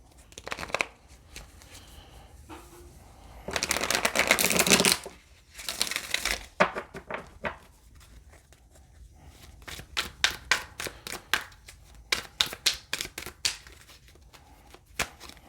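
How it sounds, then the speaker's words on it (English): Tarot cards shuffled by hand nearby: soft riffles and crinkly bursts, one longer flurry, then a run of quick sharp taps and snaps, fairly quiet throughout. "All right, one more good shuffle."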